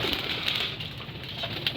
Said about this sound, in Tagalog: So papagpagin na natin yung mga ibon natin.